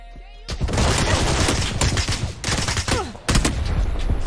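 Dense, loud gunfire rattles in rapid bursts during a PUBG match, with a frag grenade blast among the shots, sharp cracks repeating close by over several seconds and brief pauses between volleys.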